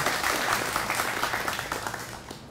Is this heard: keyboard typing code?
no